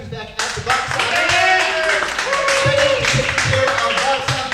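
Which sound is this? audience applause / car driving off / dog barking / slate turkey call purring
audience applause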